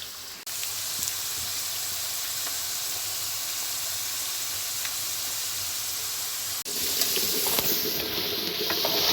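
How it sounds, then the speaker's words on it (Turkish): Steady sizzling and hissing of potatoes frying in hot oil in a pan, loudening sharply near the end as more goes into the pan. "Şimdi patateslerimi kızartmakla başlıyorum."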